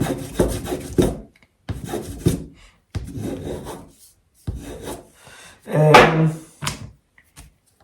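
Wood rasped away from the edge of a piece with a hand file, in several rough scraping bursts with short pauses between, close and fairly loud.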